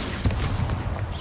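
A fiery Confringo blast spell goes off in a video game, a loud close burst with a rumbling low body that decays over about a second, heard alone.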